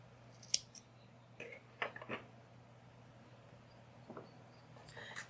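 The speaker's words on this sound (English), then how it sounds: "now I'm just gonna chain 1 and cut off my yarn" Scissors snip through crochet yarn after the final chain of a holiday sweater panel, a few quick, light cuts spaced over several seconds, close and quiet with no talk.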